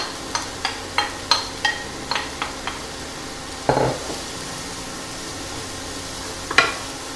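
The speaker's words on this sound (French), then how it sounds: "Je vais verser les échalotes et les pieds de champignons que j'ai hachés tout à l'heure." Shallots and chopped mushroom stems go into melted butter in a pan: a run of light utensil taps, then a soft pouring thump, then a faint, steady sizzle in the background.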